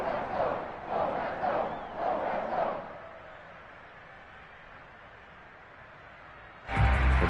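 A football stadium crowd roars in rising and falling swells, then settles into a quieter murmur before a sudden loud burst of noise at the end.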